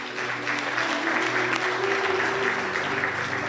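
Sustained, dense applause fills a gala dinner hall as guests clap for the Muslim brothers at a religious gathering. It runs steadily and loudly from start to finish.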